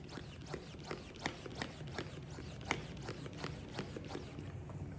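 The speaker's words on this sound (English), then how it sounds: "I'm getting a workout just pumping this up." Hand pump working air into the bladder of a Cleto Reyes double end bag outdoors in Phoenix heat, giving a steady run of short, rhythmic squeaky strokes about twice a second, close and moderately loud.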